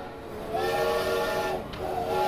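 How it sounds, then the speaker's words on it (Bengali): A train's departure whistle sounds in two sustained steady blasts with a short break between, set against a hissing background, with no talk. "ট্রেন ছাড়ার বাঁশি বেজে গেছে"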